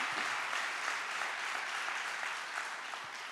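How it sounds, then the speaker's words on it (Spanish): Church congregation applauding during a Spanish-language sermon, a dense, steady wash of many hands clapping that holds evenly throughout and eases slightly toward the end. "Si le va a aplaudir, apláudale fuerte."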